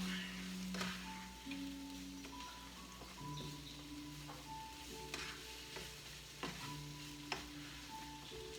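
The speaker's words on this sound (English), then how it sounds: "I'm going to just mix it in, because I want it to be sauteed in it." Ackee and saltfish sauté in a pan, with a soft, steady sizzle broken by spoon-on-pan scrapes and clicks at irregular intervals, quiet and close.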